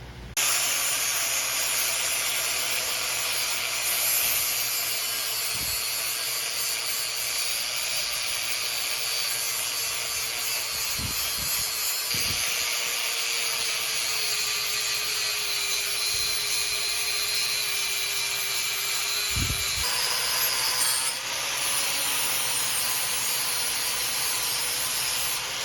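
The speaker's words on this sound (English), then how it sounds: "Now to switch to a flap wheel and get this dressed up." Flap wheel on an angle grinder dressing freshly cut metal on a turbo Chrysler Diplomat trailer hitch, a steady loud high whine and hiss running continuously, with brief pauses and changes in pitch as the wheel works the steel.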